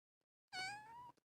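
A small feral kitten gives a single clear, drawn-out meow, close and alone in an otherwise quiet room.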